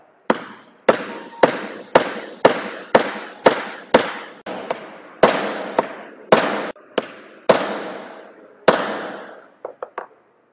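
Hand hammer repeatedly striking a steel chisel to cut through a workpiece, about fifteen sharp ringing metallic blows at a steady rhythm, close and loud, ending with a few quicker lighter taps.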